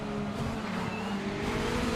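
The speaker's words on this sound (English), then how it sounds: "That turbo flutter from the Ferrari there." Racing engine of a Ferrari prototype in the Assetto Corsa sim during a four-hour Silverstone race, a continuous buzzing drone with turbo whistle and flutter, loud and steady with no talk.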